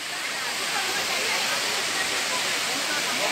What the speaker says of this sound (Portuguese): É espetáculo a cachoeira.